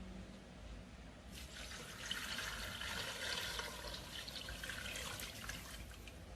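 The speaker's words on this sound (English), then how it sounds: "I'm going to add some water." Water pours steadily into a pressure cooker pot holding oxtail pieces, a soft continuous splashing rush that swells after the first second and runs on at a moderate level.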